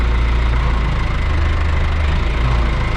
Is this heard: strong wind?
no